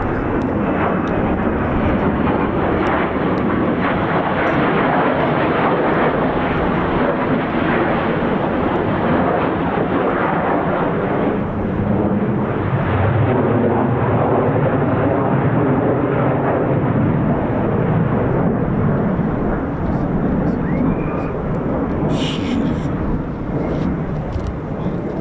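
F-15 Strike Eagle fighter jets taking off at RAF Lakenheath produce a loud, continuous jet-engine roar that holds steady and heavy for the whole stretch, with no pause.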